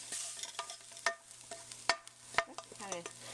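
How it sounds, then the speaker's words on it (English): Onions are tipped into a soup pot for a rustic cabbage soup, giving a soft, faint sizzle and a few sharp taps and clatters of the utensil against the pot. "In goes our onions."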